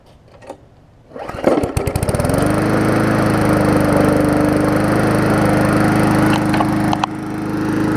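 A Murray 3.5hp push lawn mower engine catches after a brief pull-start rattle, then settles into a loud, steady, close-up drone that runs without a break.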